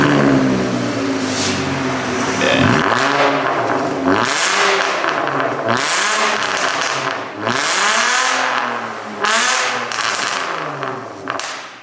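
An Audi B5 with the 2.8 30v engine and a custom exhaust revs repeatedly nearby, each throttle blip rising and falling in a deep, raspy growl, with one brief spoken word.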